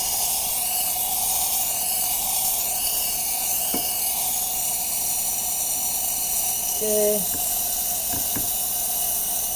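An espresso machine steam wand steams milk for a café mocha, giving a steady loud hiss that runs throughout with a few faint clicks, and a brief word spoken over it.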